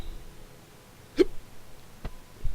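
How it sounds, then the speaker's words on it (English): Hiccup from a player voicing a Skyrim game, one short sharp catch standing out against a quiet background, with a couple of faint bumps following it. "Hiccups, oh boy."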